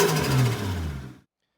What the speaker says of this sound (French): je vais vous faire écouter maintenant le son du moteur de la voiture